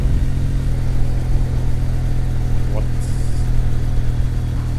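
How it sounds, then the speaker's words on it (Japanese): A steady, mellow air-cooled Kawasaki W800 motorcycle exhaust drones close by at a low idle-like rumble, smooth rather than crackling, with faint wind and road noise over it. "これ空冷なんですけど、排気音がね思ったよりも静かですね。"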